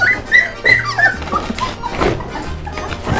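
Puppies whimper and yip in high, thin repeated cries close by, several short whines over a few seconds with a low background hum.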